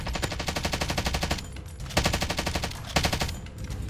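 Rapid automatic gunfire in Call of Duty: Warzone, fired close and loud in three quick bursts of evenly spaced shots with brief pauses between them.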